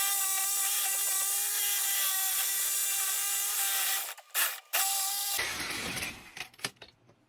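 A power saw cuts through black iron gas pipe with a steady high whining grind for about four seconds, then stops abruptly, followed by brief clatter and handling noises close by.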